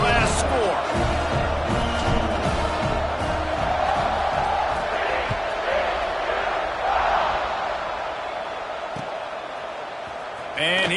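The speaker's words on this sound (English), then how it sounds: "this crowd is buzzing after that last score" A football stadium crowd keeps up a steady, loud buzz of cheering and whooping after a score, with bursts of excitement under continuous talk.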